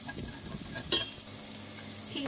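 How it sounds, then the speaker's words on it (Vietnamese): Dried shallots fry in hot oil while being stirred, giving a continuous soft sizzle with scraping stir sounds and one sharper clatter partway through. "Các bạn phi làm sao để cho cái phần hành khô này nó thật là vàng."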